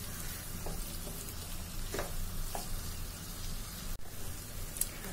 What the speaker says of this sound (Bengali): এখন আমি মাছগুলো ঢেলে দিয়ে মাছগুলোর সঙ্গে মশলাটা ভালো করে নেড়ে চেড়ে আর 1 মিনিট মতন এটাকে আমি